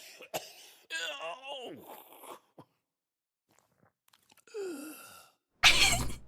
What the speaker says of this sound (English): I hate the sound of people coughing like that.